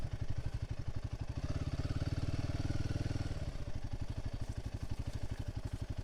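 Royal Enfield Himalayan 450 motorcycle ridden off-road, its engine pulsing in a steady rapid throb that swells louder mid-way as the rider accelerates, then settles back, close and continuous with no talk.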